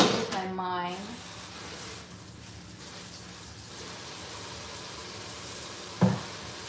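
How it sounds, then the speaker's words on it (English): Chicken broth at a boil in a home kitchen pot gives off a steady hissing, bubbling wash of noise. A louder clatter comes at the start and a brief knock near the end. "My broth is finally starting to boil."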